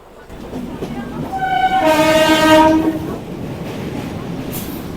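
A Kolkata local train runs close by, its horn sounding a long, loud multi-tone blast in the middle that swells and fades back to the steady rolling rumble of the carriages.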